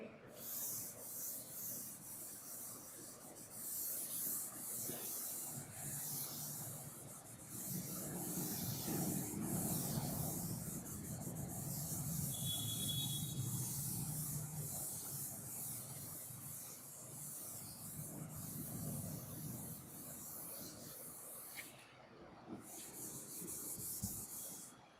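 A board being rubbed to erase a drawing, a steady scratchy rasping and hissing scrub that keeps going for about twenty seconds with brief pauses near the end.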